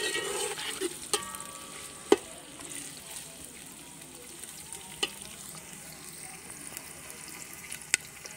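Onions frying on low heat in a pot for desi chicken biryani, a steady gentle sizzle broken by occasional sharp clicks of a stirring spoon against the pan.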